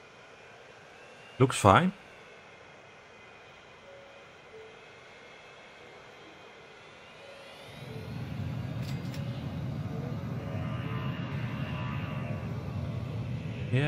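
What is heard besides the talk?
airplanes at an airport in the video game Transport Fever 2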